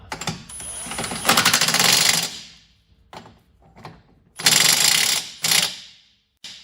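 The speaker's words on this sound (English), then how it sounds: "Put a little on the thread, a little on here, and then I'll impact it so it's snug." Impact wrench snugs a rear wheel bearing bolt on a Ford Fusion, heard as rattling hammering bursts of about a second each with short pauses and small clinks between, close and fairly loud.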